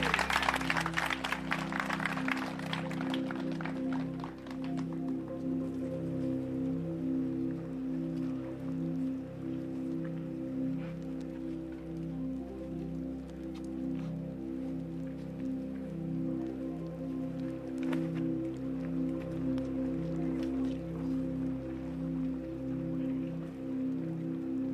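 A crowd at the 2025 PCS Open disc golf tournament applauds and cheers for player Paul Macbeth on the tee. A dense burst of clapping fills the first few seconds, then fades under a steady, droning tonal hum.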